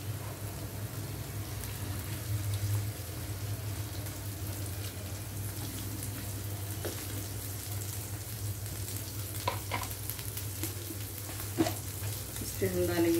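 Capsicum and egg frying together in a pan as they are mixed, a steady close sizzle with soft scraping stirs and a few clinks of the spatula near the end, no talk.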